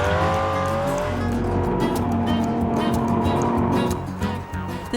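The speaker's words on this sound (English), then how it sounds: "Our cameras were allowed the rare opportunity to take some hot laps with Dario" A Ferrari lapping the Fiorano test track at speed: a loud, steady high-revving engine note with shifting pitch and some tire squeal, close and dominant throughout.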